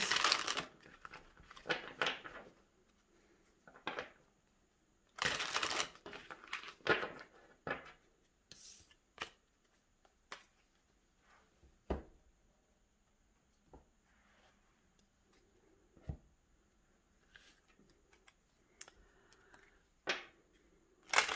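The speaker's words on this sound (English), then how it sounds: "When you use a lot of cards, you got to do lots of shuffling." Bursts of papery riffling and crisp card snaps come in short irregular clusters, loud and close, with quieter shuffling and tapping between them.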